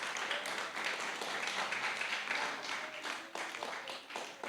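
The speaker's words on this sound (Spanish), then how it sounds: "Dale una ofrenda de palmas al Señor" A church congregation clapping together as an offering of applause, a dense continuous patter of hands that fills the whole stretch at moderate loudness without pause.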